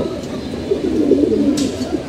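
Four or five pigeons outdoors on a foggy day coo in low, rolling, overlapping phrases that swell in the middle, close and prominent with no talk over them.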